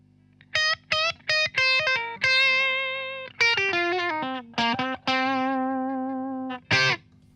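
An electric guitar with slight overdrive plays short, distinct phrases of plucked notes and chords with brief gaps between them, close and fairly quiet with no talking.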